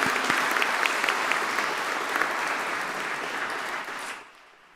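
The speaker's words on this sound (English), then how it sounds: "Please put your hands together because he's probably watching online." Audience applause at a university postgraduate graduation ceremony, a steady dense clapping from a large crowd that holds for about four seconds and then cuts off quickly.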